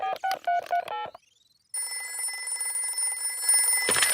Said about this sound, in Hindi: हम दादा और दादी को फोन करते हैं।